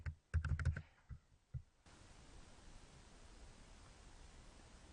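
A computer keyboard typed on to enter a value in underwriting software: a quick cluster of close, crisp keystrokes in the first two seconds, then only a steady low hiss.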